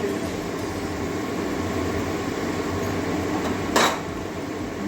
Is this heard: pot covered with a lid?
yes